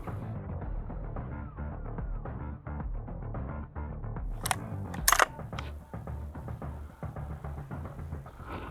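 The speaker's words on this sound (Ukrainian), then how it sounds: "Тут у нас є затвор, який потрібно припідняти, щоб його поставити." A low steady hum, then a short burst of sharp metallic clicks and clacks as the bolt of a Browning M2 machine gun is fitted into its receiver, fairly close.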